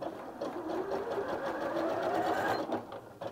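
A Janome 740DC sewing machine stitching, a close, continuous whirring hum with a fast mechanical pulse that runs steadily and then eases off near the end.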